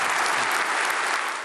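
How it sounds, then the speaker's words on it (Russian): An audience in a hall at the Davos forum breaks into dense, even applause at the close of Trump's speech, a steady wash of many hands clapping with no pause. "Аплодисменты прозвучали лишь в конце."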